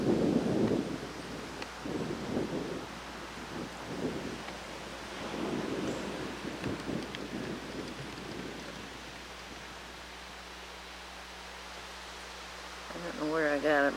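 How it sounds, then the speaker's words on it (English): Hard wind gusts roar and buffet outdoors in a garden of lilies, a steady broadband rush throughout with a person's voice talking over parts of it. "The wind is blowing real hard right now."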